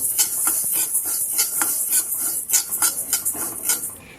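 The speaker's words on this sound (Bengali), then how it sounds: "সমস্ত মশলাগুলোকে আমি একটা কড়াইয়ের মধ্যে শুকনো খোলায় ভালো করে একটু ভেজে নেব" Whole spices—fenugreek, fennel, cumin and mustard seeds—dry-roasted in a wok for a Bengali green chilli pickle, with steady scraping and stirring clicks, light rattling of seeds against metal throughout, close and alone.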